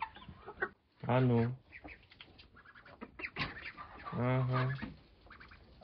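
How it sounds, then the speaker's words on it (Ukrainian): Ducks on a home yard quack loudly twice, close by, with brief speech and other rustling sounds between the calls. "пішли годувати качок, бо вже кричать на всю вулицю"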